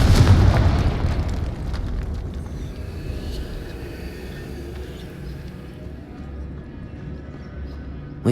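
A Confringo fire spell explodes in Hogwarts Legacy, a loud booming burst at the start that decays into a long rumbling tail with scattered crackles, fading toward a quieter end.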